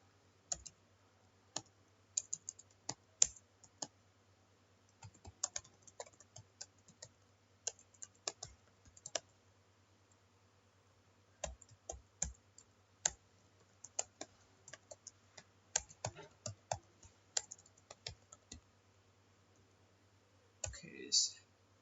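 A computer mouse clicks sharply in irregular bursts, with single and clustered clicks spread across a quiet room and a faint steady low hum beneath.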